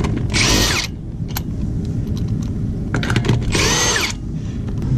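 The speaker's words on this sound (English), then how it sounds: "And now you can finish removing your lug nuts." A power impact tool spins off car wheel lug nuts during a brake job with drilled and slotted rotors, two loud, close whirring bursts about three seconds apart, separated by clicks and metallic handling noises.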